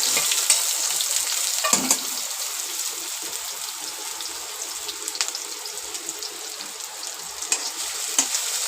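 Onion frying in oil for a prawn curry, producing a strong, steady crackling sizzle nearby, with occasional sharp pops and a spoon scraping through the pan.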